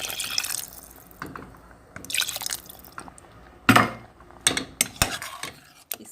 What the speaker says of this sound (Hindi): अब हम इसे ग्रेवी के लिए हम इसमें थोड़ा 1 कप पानी डालेंगे।